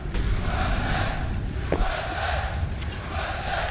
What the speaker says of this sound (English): The crowd's back as well.